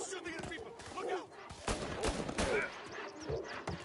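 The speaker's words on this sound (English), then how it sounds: "He's shooting at people." Bursts of gunfire in the Mafia Definitive Edition game during a street shootout, rapid overlapping shots and cracks with shouting voices mixed in.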